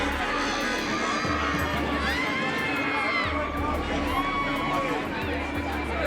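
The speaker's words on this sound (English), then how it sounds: "the crowd across the street just goes wild" A street crowd at the Batman Begins premiere goes wild, with dense continuous cheering, shrieks and high rising whoops over a roaring babble of voices, loud and close throughout.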